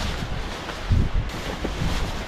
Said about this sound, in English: The wind's picked up a little bit